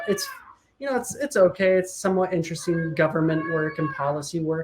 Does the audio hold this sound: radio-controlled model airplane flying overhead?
no